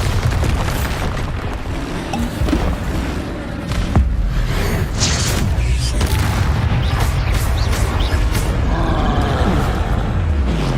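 Bombarda explosion spells cast in the Hogwarts Legacy video game, deep booming blasts and rumbling bursts filling the whole stretch, loud and continuous.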